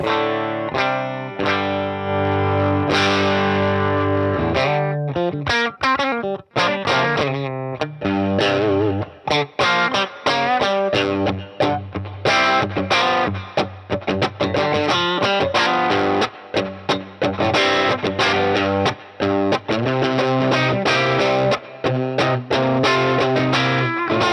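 An electric guitar played through a cranked amplifier in its low mode roars with heavy distortion, sustained chords and riffs ringing loud and continuous with choppy breaks, no talking.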